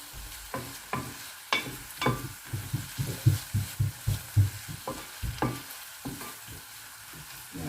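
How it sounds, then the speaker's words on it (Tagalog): Onions and sun-dried tomatoes sautéing in a pan for a salmon dish, with a run of rhythmic stirring scrapes and clacks over a soft sizzle, close and fairly loud, and no talking. "ilagay na natin yung ating sun-dried tomatoes. Ayan. So igisa lang natin."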